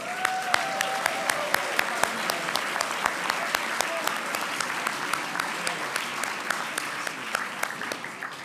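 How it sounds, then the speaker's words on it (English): A banquet audience applauds honorees at the 2023 Cooperative Hall of Fame, giving a sustained round of clapping with sharp individual claps standing out near the front, with a few voices faintly mixed in. "Let's give these amazing co-op heroes a round of applause."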